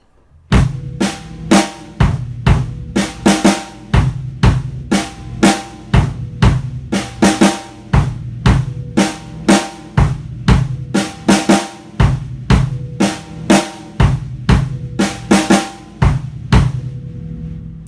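A drum kit plays a repeating swung sixteenth-note groove, crisp hi-hat ticks, punchy snare hits and kick drum, steady and loud, ending with a fade.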